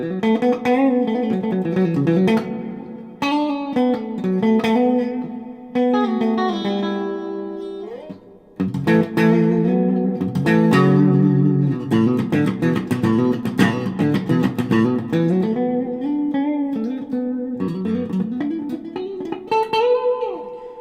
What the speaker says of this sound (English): Next switch is going to be a lot more twangy.